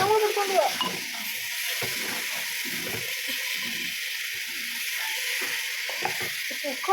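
Masala paste stirred into beef curry in a pan, giving a steady sizzle with repeated scraping strokes, and a voice briefly heard over the cooking.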